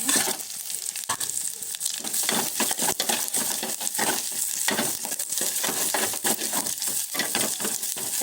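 Chillies, garlic and cumin fry in a tablespoon of oil in a pot, a dense crackling sizzle broken by repeated scraping stirs and utensil clicks against the pan, close and continuous.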